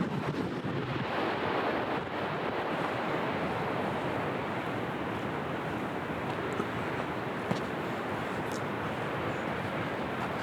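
Ocean surf breaks steadily along the rocky Oregon coast near Otter Rock during a king tide, a continuous loud roar of whitewater mixed with buffeting wind noise on the microphone, with no voices.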